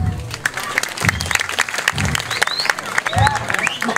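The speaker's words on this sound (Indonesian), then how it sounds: "Tepuk tangan dumun." An audience at a Balinese Calonarang performance at Pura Gunung Sari claps in loose, uneven bursts, with crowd voices and chatter mixed through the applause and a high whistle-like tone sliding briefly above it.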